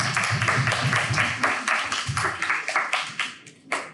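Audience giving a round of applause at a design thinking knowledge-sharing session, dense and loud clapping from many hands that thins out to a few scattered claps at the end.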